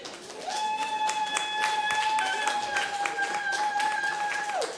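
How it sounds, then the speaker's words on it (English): An audience at a St. Louis comedy show claps in a scattered, moderate patter, while a long, clear held tone, like a voice or whistle, rings steadily over the clapping for most of the stretch. "Can we get a round of applause for this queen?"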